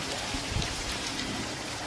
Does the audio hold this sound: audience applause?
no